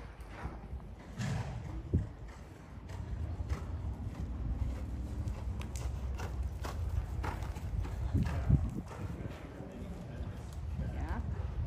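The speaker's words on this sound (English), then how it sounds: "Do you think you can make a transition to canter without her pulling you out of the saddle?" A horse named Frida is ridden through canter work in an arena, her hoofbeats sounding as a steady, rhythmic muffled clip-clop under the wind and the surrounding noise, while people talk at intervals.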